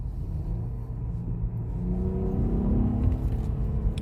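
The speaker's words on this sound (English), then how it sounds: "the engine roar is way more than the 4th gen stock" An Acura TL SH-AWD sedan with a six-speed manual roars under acceleration in third gear, a low steady engine rumble that swells and climbs in pitch as the revs rise, heard from inside the car.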